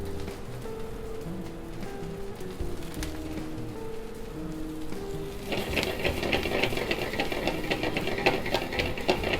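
Mushrooms hit a hot oiled pan halfway through and break into a dense, crackling sizzle that continues steadily, following a quieter stretch of low kitchen clatter, with no voices.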